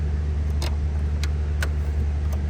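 A car engine idles steadily with a deep low hum, while brief clicks and light rattles rise above it a few times.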